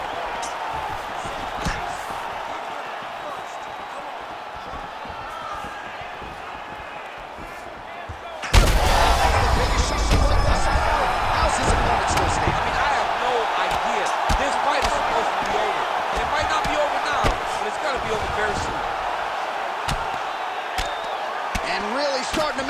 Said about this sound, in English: Another ground and pound strike lands.